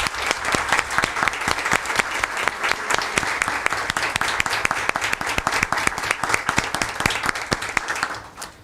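Audience applause at a lecture on conscious, nonviolent communication at the OAB São Paulo, honouring the São Paulo Systemic Law commission; dense, steady clapping from a large crowd fills the whole stretch before tapering off at the end.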